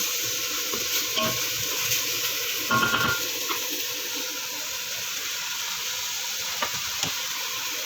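Tomato paste being stirred into sizzling margok in a hot pan, with a steady frying hiss and a few scraping stirs and clinks of the utensil, close and alone.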